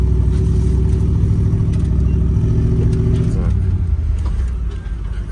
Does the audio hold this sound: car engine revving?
yes